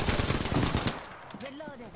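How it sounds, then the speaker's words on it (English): Incoming automatic gunfire in a shooter video game rattles as a fast burst of loud shots for about a second, then cuts off, leaving quieter game effects and faint tonal sounds. "I am taking fire, friends"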